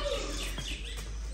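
Birds chirp and tweet outdoors in a faint, scattered scatter of short calls over a steady low background hum, with no voices.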